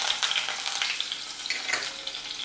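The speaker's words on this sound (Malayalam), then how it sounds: "വെളുത്തുള്ളി ഇടുന്നുണ്ട്." Garlic sizzles and crackles in hot vegetable oil in a pan for a Kerala vada curry, a steady close frying hiss with scattered pops and stirring.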